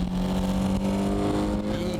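A drift car's engine holds a steady, loud revving drone on M7 tires, close and continuous, with a tonal whine sliding near the end.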